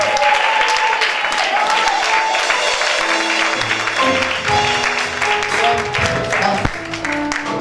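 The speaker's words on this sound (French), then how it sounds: "Acclame plus fort que ça." A church congregation applauds at a special worship service. The clapping is loud, sustained and even, mixed with crowd voices and a voice talking over it.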